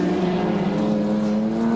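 A Nissan touring car with a noisy, clunking gearbox races at Mallala in the 1989 ATCC, its engine a steady, loud drone held close throughout with no pause.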